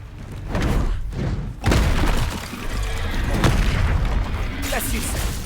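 The Confringo fire spell explodes in Hogwarts Legacy with heavy booming blasts and thuds amid dense, continuous combat noise.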